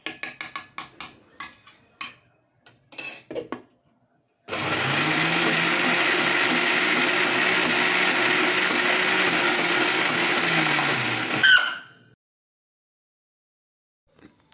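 A kitchen mixer grinder whirs steadily for about seven seconds grinding mixed lentils, loud and constant before cutting off, with light clattering and knocks before it starts.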